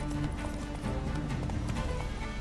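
Horse hooves clip-clop steadily as a horse is ridden in the video game The Witcher 3, a fast rhythmic gallop under game sounds with no speech.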